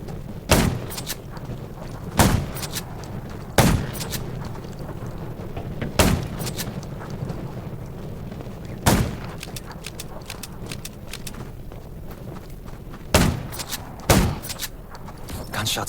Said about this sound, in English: Gunshots will attract more zombies.